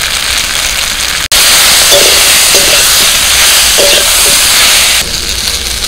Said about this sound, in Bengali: সবজিগুলো ভালো করে ভেজে নিচ্ছি, মশলাগুলো দিয়ে দিচ্ছি